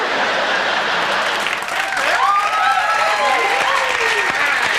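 Studio audience applause at a late-night talk show, a steady wash of clapping that swells slightly midway and holds at a fairly loud level throughout, with faint voices mixed underneath.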